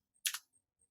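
A brief cluster of keystrokes on a computer keyboard, two close clicks followed by a couple of faint taps, with silence around them.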